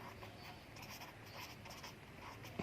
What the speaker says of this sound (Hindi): मैं अब जल्दी में लिख देता हूँ